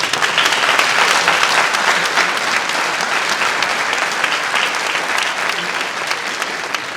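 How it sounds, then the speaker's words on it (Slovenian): An audience at a New Year concert by a municipal brass band applauds steadily for several seconds, a thick, even roar of many clapping hands filling the hall. "maestro Daniel Leskovic, en aplavz prosim."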